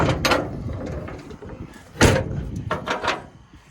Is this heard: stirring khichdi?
no